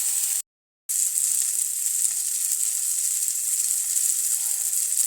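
Fish frying with onion and tomato in a pan, a steady close sizzle with no talking that drops out for a moment near the start.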